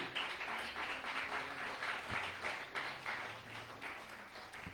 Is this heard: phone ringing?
no